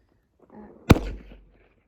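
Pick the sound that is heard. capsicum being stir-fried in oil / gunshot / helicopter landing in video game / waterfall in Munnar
gunshot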